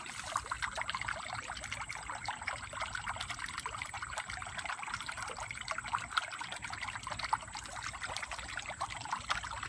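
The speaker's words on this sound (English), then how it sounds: "Very relaxing in the evening time," Water trickles steadily in a small DIY koi pond, a soft continuous babble that stays faint and even throughout, heard alone with no voices.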